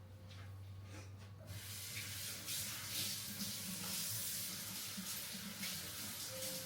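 Tap water runs steadily over a cheese sauce scoop being rinsed in a kitchen sink, a continuous close splashing hiss that starts after a brief quiet moment and carries on alone.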